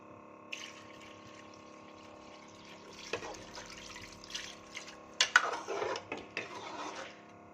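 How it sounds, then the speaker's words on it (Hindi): Water is poured into a pot of chicken nihari, starting as a faint trickle and building into a few sloshing, splashing bursts with light clinks from the pot. "तो अभी इसमें हम पानी डालेंगे"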